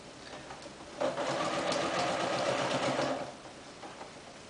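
A sewing machine stitches a self-faced sleeve hem, a soft steady mechanical whirr that runs for about two and a half seconds amid quiet room tone.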